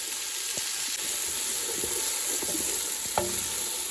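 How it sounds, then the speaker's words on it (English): Vegetables searing in olive oil in a pan for shrimp jambalaya, a steady close sizzle with occasional stirring scrapes and a sharp clink near the end, no talking. "I'm just going to sear these vegetables."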